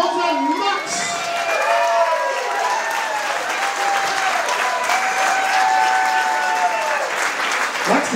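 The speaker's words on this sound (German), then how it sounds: "Max, das ist dein Applaus." Dense, steady audience applause for a young singer on stage fills the whole stretch, with a few cheers and shouts from the crowd and some voices mixed in.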